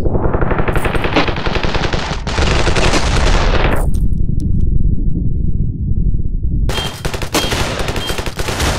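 Shotgun fire and automatic weapons in the video game Ravenfield, loud dense volleys of shots, a brief lull filled with low rumble, then further sharp blasts close by.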